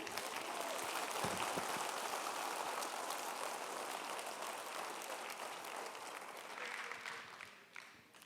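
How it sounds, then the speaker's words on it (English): A large audience gives a sustained round of applause for a violin performance, dense steady clapping filling the space for about eight seconds before tapering slightly at the end. "please, again, a round of applause for Krishna."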